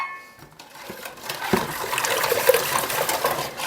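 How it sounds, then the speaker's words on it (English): Spoon stirring cream of leek vegetable soup in a pot, a few wet scraping and sloshing sounds, close and moderately loud, with no talk. "I'm just giving a quick stir here."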